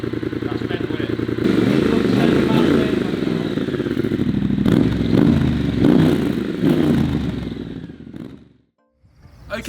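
A Triumph Bobber fitted with a valved exhaust revs loudly at close range, its rough clattering engine note rising and falling in bursts before cutting out near the end, then briefly returning.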